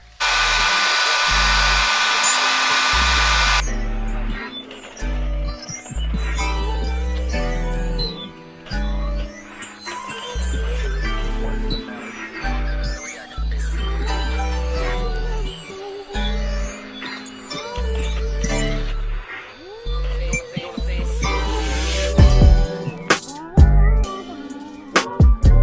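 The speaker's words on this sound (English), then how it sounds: "we're gonna sit up on the dryer for at least an hour" A hooded sit-under hair dryer droning loudly and close with a steady hum, its airflow continuing for a long stretch with small shifts in tone.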